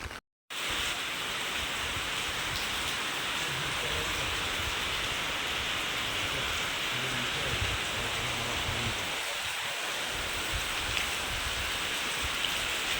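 First monsoon rain falling steadily, a dense continuous hiss of drops that starts after a brief silent gap and continues evenly at moderate loudness without letup.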